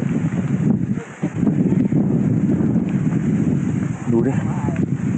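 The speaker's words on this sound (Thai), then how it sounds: "โอ้ลมแรงมากฮะ ลมแรงมาก" Strong wind roars across a mountaintop campsite at Doi Samer Dao, buffeting the microphone with a loud, continuous rumble and gusts, while a voice speaks over it.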